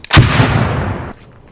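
A single added explosion effect hits with a sharp, loud boom and then a rumbling roar that fades over about a second, cutting off abruptly into near silence.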